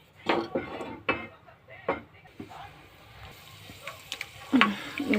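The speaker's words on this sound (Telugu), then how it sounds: "పల్లీలు అయితే కొద్దిగా వేగినాయి" Peanuts fry in hot oil in a pan, heard as a soft sizzle with intermittent sharper clatters of a utensil stirring against the pan, moderately close and fairly quiet.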